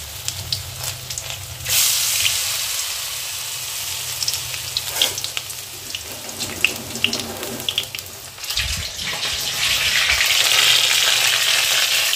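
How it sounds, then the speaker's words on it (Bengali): Batter-dipped pointed gourd frying in hot oil in a wok gives a continuous sizzle and crackle that swells as pieces go in, with scraping and stirring noises close by. "পটলগুলোকে দেখো কড়াইয়ে তেলে দিয়ে দিয়েছি।"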